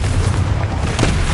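A Confringo blasting spell from Hogwarts Legacy goes off as one loud, sustained booming explosion with a deep rumbling roar that fills the whole moment, and no voices.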